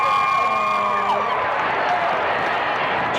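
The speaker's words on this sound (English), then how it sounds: "Listen carefully to the crowd chanting" Crowd chanting at the congressional baseball game, a steady rhythmic stadium chant rising from a large crowd in the stands, heard alone at moderate distance.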